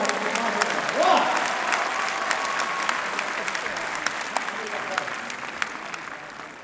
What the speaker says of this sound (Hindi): एक बार तालियां बजाकर बिना भूमिका के जोरदार